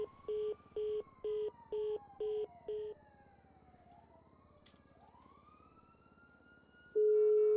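A phone dials a call in a roleplay video game: six evenly spaced electronic beeps, then a gliding synthetic whoosh and a steady held tone at the end.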